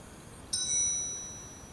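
A single clear phone notification ding rings out midway and fades slowly in an otherwise quiet room.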